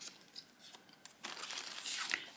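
Red paper being folded for a small Christmas card for an 18-inch doll, making soft, close crinkling and creasing that builds toward a louder crisp rustle near the end, with no voices.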